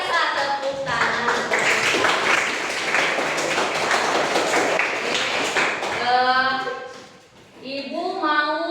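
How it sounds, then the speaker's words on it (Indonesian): A school class applauding, a dense round of clapping for several seconds, with children's voices calling out before and after it. "Tepuk tangan"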